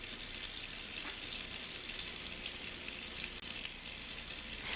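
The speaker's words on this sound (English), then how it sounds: "Rinse the nozzle." A Kirby G5 vacuum nozzle is rinsed under running water from a tap, a steady, close, hissing gush that continues evenly with one brief interruption near the end.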